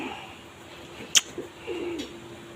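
A pigeon gives a soft, brief coo close by, preceded by a sharp click, against a quiet outdoor background without speech.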